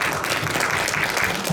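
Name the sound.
applause at a forum opening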